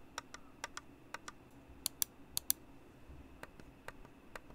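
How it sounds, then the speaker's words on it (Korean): Sharp Logitech MX Anywhere 3 mouse-button clicks, close and crisp, coming singly and in quick pairs against a quiet background. "하지만 클릭 소리는 일반적인 소음이 발생합니다"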